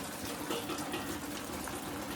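Water pours steadily into a cooking pot while clams are prepared in a Malvani-style kitchen, a soft continuous splashing gush with no talking.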